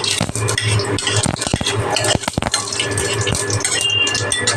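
Greens stirred in a pan of white oil tempered with fenugreek seeds and dried chilli, close metallic scraping and clinking of the utensil against the pan over a faint sizzle.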